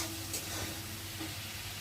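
Prawns fry in a pan while cooking a Bengali kolmi greens recipe, giving a steady, close sizzle with hissing and spitting that holds for the whole moment.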